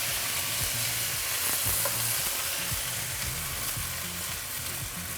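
Stir-fry sauce is swirled along the edge of a hot wok and sizzles loudly and steadily up close, with a faint low clatter underneath and no talking.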